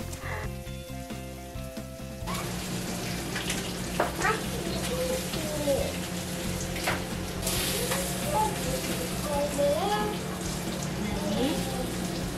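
Food sizzles and fries in a pan while lunch cooks, a steady crackling hiss up close after a brief quieter start, with a voice and soft kitchen clatter over it.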